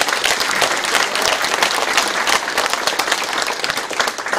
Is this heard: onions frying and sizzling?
no